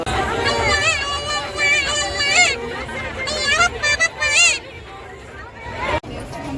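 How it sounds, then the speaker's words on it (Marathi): A busy crowd at the Mhasa fair bull market, an outdoor village fair in Murbad, fills the air with a steady hum of chatter around a close voice talking over it. "आम्ही बोललो गर्दी नाही पण बघ गर्दी"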